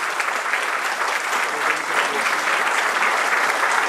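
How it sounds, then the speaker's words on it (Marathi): Sustained audience applause fills a hall at a ceremony honoring a lawyer, dense, loud and even clapping throughout with no pause. "आपण टाळ्या किती वाजवायच्या आपण लक्षात घ्या."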